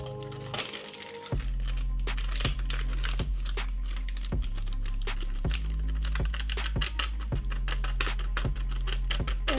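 A package is cut open with a knife, making crinkly plastic rustles, sharp clicks and tearing sounds up close, over a rhythmic low thumping background.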